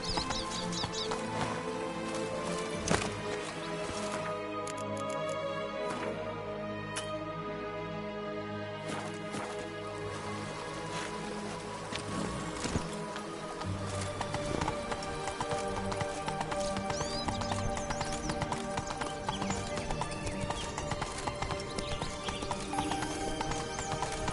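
A horse in the video game The Witcher 3: Blood and Wine clip-clops along at a steady pace, with loud neighs and whinnies breaking through over the rhythmic hoofbeats and background game music.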